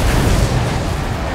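A suicide car blows up in the Mad Max video game, a loud, dense roaring blast of broadband noise that fills the whole moment with no speech.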